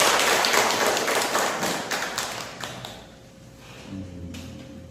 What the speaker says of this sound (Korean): 하나님께 영광의 박수 올려드릴까요?